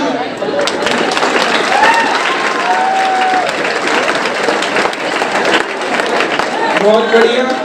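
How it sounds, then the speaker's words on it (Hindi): Loud, continuous applause from an audience at a Hindi poetry gathering (kavi sammelan) with students and poets, steady dense clapping with crowd noise and a few voices throughout. "जोरदार तालियां।"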